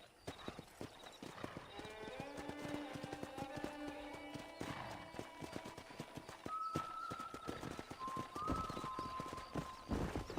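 Wild horses in the video game Red Dead Redemption, with a busy run of hoof clip-clops and several loud neighs and whinnies, set over steady ambient game sound.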